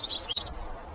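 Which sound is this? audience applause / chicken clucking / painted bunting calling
painted bunting calling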